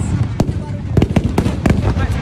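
Bacamarte blunderbusses fire at a traditional festival in Caruaru, Pernambuco: a rapid, uneven series of loud, sharp gunshot cracks with rumbling echoes, several overlapping, and crowd noise underneath.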